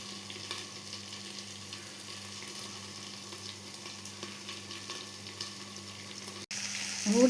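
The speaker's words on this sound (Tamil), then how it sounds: "கேரட் போட்டுட்டு நல்லா வதக்கி விடுங்க, நல்லா கிளறி விடுங்க" Carrots sauté in a pan for chutney, a soft, continuous sizzle with a low hum beneath and faint stirring scrapes, quiet and close, ending with a brief louder burst of movement.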